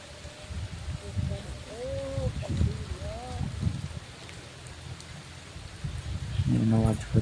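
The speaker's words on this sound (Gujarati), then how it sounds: "કેવો વરસાદ પડે છે જબરજસ્ત" Heavy rain pours over a farm field in Gujarat while a buffalo is washed, a steady broadband hiss under voices talking throughout, with a brief harmonic animal-like sound near the end.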